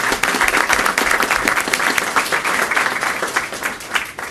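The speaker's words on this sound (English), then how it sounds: "But we'll clap for him as well." Audience applause at a school district board meeting, a steady patter of many hands clapping at moderate loudness throughout with no talking over it.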